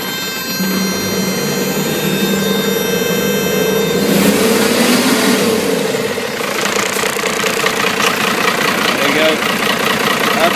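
A truck engine cranks on a boost pack with a rising, labored churn, then catches and settles into a loud, steady, rumbling idle close by.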